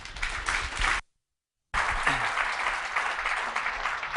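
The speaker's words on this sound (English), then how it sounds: "So let's give a big round of applause for Kenny." Applause from a conference audience at an Agile 2013 presentation, a dense burst of clapping that cuts out briefly and then resumes, continuing steadily and fairly loud.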